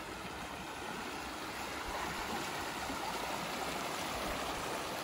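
River water streams past during a geologist's fieldwork day, a continuous rushing and gurgling flow at moderate distance, steady throughout with no voices.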